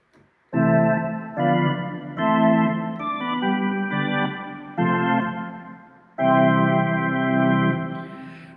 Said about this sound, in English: This is the sound of the Hammond organ.